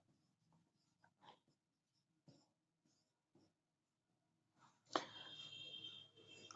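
Chalk or pen scratching out a maths proof during a Class 9 geometry lecture, short separate strokes at first, then a sustained louder stretch of writing near the end, close and mostly alone.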